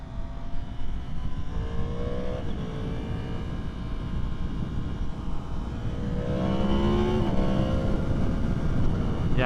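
A 2023 Yamaha MT-10 motorcycle is ridden through a turn, with steady wind and road roar. The engine note rises sharply near the end as the rider gets back on the throttle.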